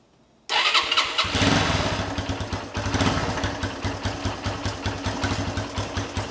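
A seven-year-old SYM Wolf 125 motorcycle engine cranks and starts, then settles into a loud, steady idle with a rhythmic, thumping beat.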